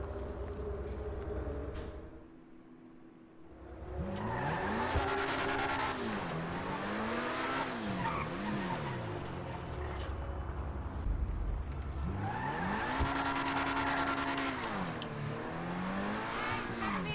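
A 2021 Chevy Camaro in GTA 5 revs and rises in pitch through several gear changes, with brief tire squeals, loud and close throughout after a short lull near the start.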